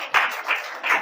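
An audience applauds a student in a short, close burst of clapping that rises and falls in three quick swells.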